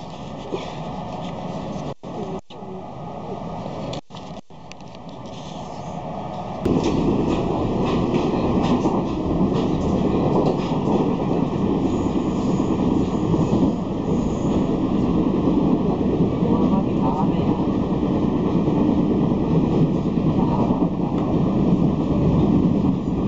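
Steady rumble of a passenger train ride in Taipei, the carriage noise rising louder after the opening seconds and holding as a continuous close roar with faint rail clatter, no talk.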